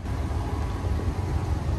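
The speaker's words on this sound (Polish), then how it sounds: "No i lokomotywa sobie podjeżdża." A locomotive rolls up to rejoin its train at Dynów station, heard as a continuous loud, low rumble close by with no voices.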